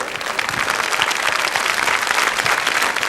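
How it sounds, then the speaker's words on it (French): An audience at a 1982 French children's television show applauds Santa Claus, a dense, even roar of many hands clapping throughout, fairly loud and unbroken. "On va applaudir le Père Noël."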